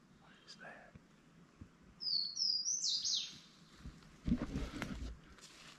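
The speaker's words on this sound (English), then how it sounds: "It's just one bird singing here." A single bird sings a short, high, chirping phrase at a moderate distance, over quiet ambient background with a few faint knocks and rustles.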